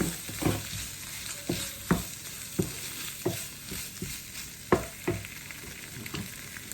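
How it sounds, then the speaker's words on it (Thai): Egg clusters stir-fried on low heat with oyster sauce, a constant soft sizzle punctuated by a dozen sharp spatula scrapes and taps against the pan in an uneven rhythm, close and alone. "นิดผัดไฟอ่อนๆไปเรื่อยๆ นะคะเพราะนี่กลัวน้ำมันเขากระเด็น"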